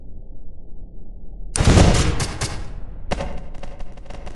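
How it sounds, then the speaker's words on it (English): A sudden booming explosion effect with crackling debris, followed by a second burst of rattling blasts, over a low rumbling background. "Explosion."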